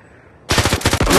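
A rapid burst of automatic gunfire from a VR war video game starts abruptly after a short quiet moment, loud and close, the shots rattling in a fast even rhythm.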